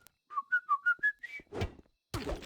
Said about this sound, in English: the whistling is a bit